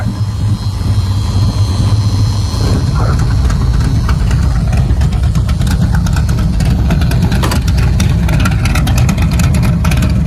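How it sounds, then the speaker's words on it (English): A loud muscle car engine rumbles steadily through the mufflers, then opens up into a harsher, louder exhaust roar with repeated revs as the exhaust cutouts open in the second half. "that's your sound with the exhaust cutouts"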